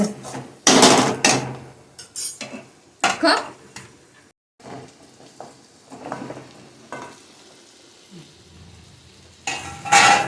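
Spices crackle and sizzle in hot tempering oil for a jackfruit bhaji, in short loud bursts between pauses, with stirring and pan clatter and someone talking in between.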